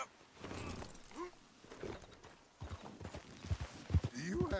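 Horse hooves clip-clopping in the video game Red Dead Redemption 2, a steady walking rhythm that grows louder toward the end over soft background sound.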